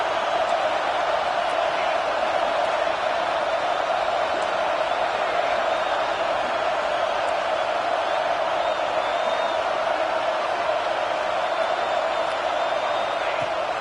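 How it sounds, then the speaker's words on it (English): A stadium crowd at a football game gives off a steady, continuous roar that holds evenly throughout, loud and distant-sounding, with faint whistles and shouts mixed in. "The roar of the crowd trying to fuel this defense to keep them pinned in their own end"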